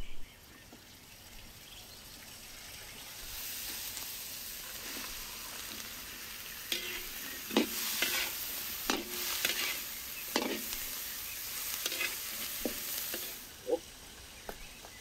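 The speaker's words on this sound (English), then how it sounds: "let's stew some onions with carrots, letting them turn soft and flavorful" Onions and carrots stew in a pan with a soft, steady sizzle, broken by sharper bursts of stirring and scraping that come every second or so.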